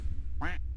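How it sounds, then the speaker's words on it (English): A single cartoonish duck quack in a video game, short and bright, sitting over a steady low background hum with no talk. "Summon the ducks."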